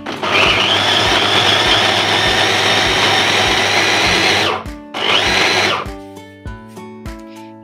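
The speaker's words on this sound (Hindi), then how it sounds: "मैं ब्रेड को अच्छे से चॉप करने लगी हूँ।" An electric chopper whirring loudly as it chops bread, a steady high-speed motor roar that stops, restarts in a short second burst, then cuts off into clattering spin-down noises, with no talking.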